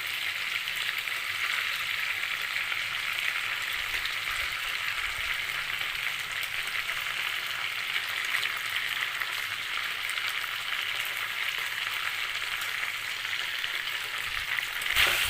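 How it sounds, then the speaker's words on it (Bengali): Sliced onions sizzle with spiced chicken pieces in a pan, a dense, even frying hiss with light stirring, close and steady for the whole stretch, with no voices. "পেঁয়াজ দিয়ে আবারও নাড়িয়ে নিচ্ছি"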